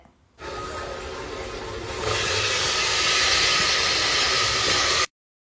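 Vegetables sizzle and hiss steadily in a hot pan for palav, a dense broadband frying noise that swells louder after a couple of seconds and then holds constant until it cuts off.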